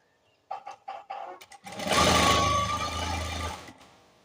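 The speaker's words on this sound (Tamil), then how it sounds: "அந்த லாஸ்ட் வரையும் நான் வந்து தையல் போட்டு எடுத்துட்டேன்" A sewing machine stitches piping onto fabric with a close, steady motorized whir that runs for about two seconds, preceded by a few short clicks and taps from the machine.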